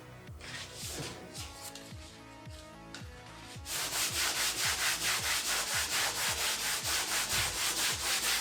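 Steady rhythmic scraping of sandpaper rubbed by hand back and forth over a wooden door, close up, each stroke distinct and getting louder and harsher after a few seconds.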